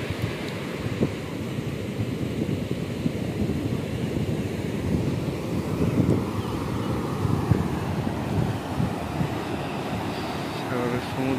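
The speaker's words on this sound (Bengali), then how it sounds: "ভয়ঙ্কর ভয়ঙ্কর ঢেউ আছড়ে পড়তেছে আপনার" Heavy sea surf pounding the shore at Cox's Bazar beside fishing boats, a steady roar of breaking waves with gusty wind rumbling across the microphone throughout.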